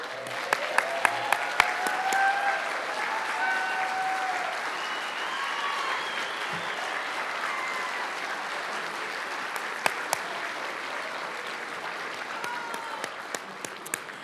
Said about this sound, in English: would you please stand so we can applaud you?